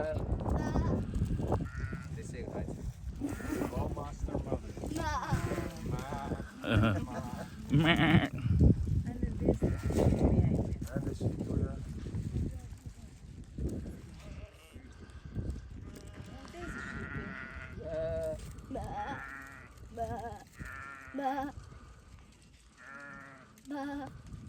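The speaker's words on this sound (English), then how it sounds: "Oh, and we saw some goats. Lots and lots of goats." Goats bleat now and then amid people chatting nearby on a hike in the Köpetdag Mountains, with outdoor background noise throughout.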